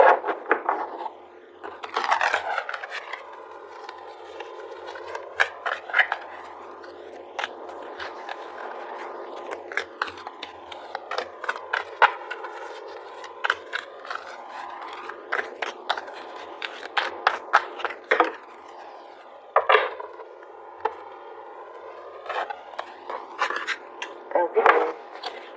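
Tarot cards are shuffled and drawn by hand, giving a long run of close, crisp riffling and sliding bursts with soft slaps between them, while a person talks quietly.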